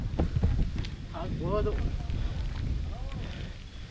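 Strong wind at Patalgange, Shivagange, buffets the microphone with a constant low rumble, while faint voices and brief tonal sounds drift through.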